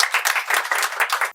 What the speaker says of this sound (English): Jagjeet Singh ji, please clap.